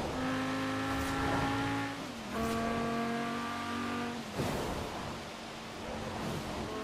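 A car in the racing game Forza Horizon 4 accelerates hard on a motorway toward top speed, its engine whining steadily higher through two gear shifts before easing into a sustained high drone, with no voices.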